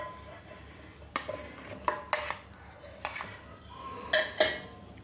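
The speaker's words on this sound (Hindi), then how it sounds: "तो ये हमने आइसक्रीम निकाल ली है जार में" Metal utensil clinks and scrapes as homemade custard ice cream is scooped into a jar, a handful of sharp knocks spread across a quiet kitchen background, with no talking.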